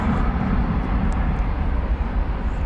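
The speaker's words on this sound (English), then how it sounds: "off goes Flight 2063 to Guadalajara" A passenger jet bound for Guadalajara takes off from a runway at DFW Airport, its engines sending out a steady, loud broadband roar that holds strong and even throughout.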